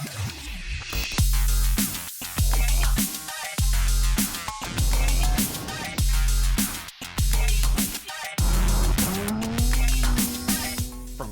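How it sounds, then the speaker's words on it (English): AWD Chevy K1500 truck with an LS engine sliding on loose gravel at a rallycross event, its engine roaring loudly in repeated bursts between gear changes, with the tires scrabbling and hissing over dirt close by. "some areas where we can get this truck to slide around a little bit"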